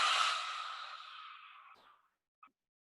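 A forceful lion's-breath exhale in a yoga breathing exercise, a loud breathy rush that fades over about two seconds and ends with a small click, with no talking.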